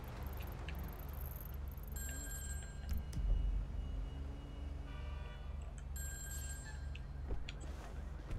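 A payphone rings in the GTA Online video game, a repeated electronic ring in bursts over a steady low background hum, with no voices.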